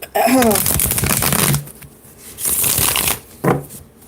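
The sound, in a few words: shuffling tarot cards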